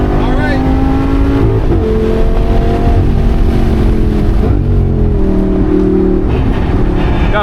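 A 600 hp 2014 Lamborghini Gallardo Performante's V10 engine roars loud and close on a track day hot lap, holding a steady, continuous howl with pitch shifts through the gears.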